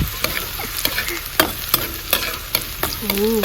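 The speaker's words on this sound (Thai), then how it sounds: "ผัดให้หอมนะคะ" Chili, garlic, shallots and kaffir lime leaves stir-fried in a pan, with a steady close sizzle broken by repeated scraping strokes of a spatula.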